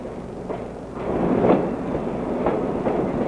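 A northbound Hudson line train rolls past on railroad tracks, a steady rumbling roar with faint rhythmic clatter swelling slightly partway through, heard alone without voices.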